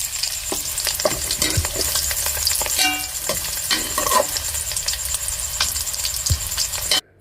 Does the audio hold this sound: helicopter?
no